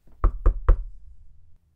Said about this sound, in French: ils frappèrent à la porte de la maison des Croquis.